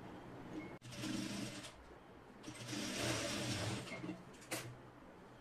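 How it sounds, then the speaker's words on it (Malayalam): A sewing machine stitches the side seam of a simple everyday skirt in short whirring bursts, with brief pauses between runs, close and fairly quiet. "ഇതുപോലെ കറക്റ്റ് ആയിട്ട് ഇങ്ങനെ പിടിച്ചിട്ട് സ്റ്റിച്ച് ചെയ്ത് എടുക്കണം."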